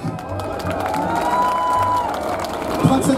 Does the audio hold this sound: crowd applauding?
yes